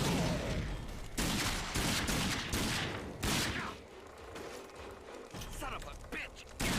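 Grenade blasts and rapid gunfire in the first-person shooter RAGE, loud bursts and clattering shots in quick succession with mechanical clicks, a voice speaking over the action.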